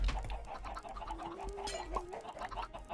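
Chickens cluck in a Minecraft Bedwars game base, a few short fowl calls over steady game background noise with a brief rising tone, moderately loud, no talk.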